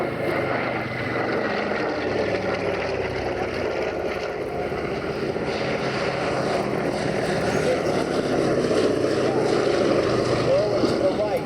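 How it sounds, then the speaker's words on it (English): A Consolidated PB4Y Privateer, a WWII bomber, flies past with a continuous droning roar from its propeller engines, swelling slightly toward the end, while people talk faintly underneath. "Lower to the right, the PB4Y privateer built by Consolidated."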